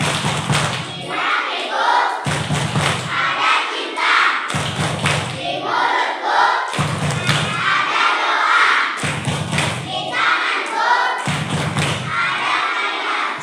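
Schoolchildren at an elementary school Ramadan welcome event perform a rhythmic success clap chant, with loud, close bursts of clapping and shouting repeating about every two seconds.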